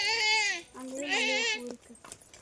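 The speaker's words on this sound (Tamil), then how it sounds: "இது என்னடா ஆடு மாதிரி கத்துது?" An animal at a house garden gives two long, wavering bleats like a goat, loud and close, then goes quiet apart from faint background sounds.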